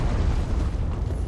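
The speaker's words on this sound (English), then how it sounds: "Oh, and I'm being shot at" Gunfire aimed at the player in Dark Souls III, heard as a dense, low rumbling burst of booming impacts that fills the whole moment, loud and close with no talk over it.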